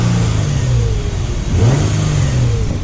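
A Nissan Elgrand E51 4x4 with a V6 engine, revved while parked: a steady, loud engine drone that swells briefly into a rising rev and then settles back, with no talk over it.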